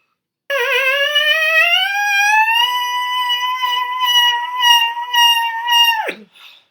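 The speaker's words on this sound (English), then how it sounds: "we're going to start in the middle of our buzz, and we're going to go up to the high range" A loud, close buzzing tone through a brass mouthpiece climbs steadily into the high range, wavers there, then drops abruptly and stops.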